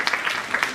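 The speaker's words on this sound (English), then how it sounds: "Another round of applause." Audience applause at a school SSC prize-giving ceremony, a short burst of dense clapping spread across a hall, steady and moderately loud with a few sharper claps standing out, no voices on top.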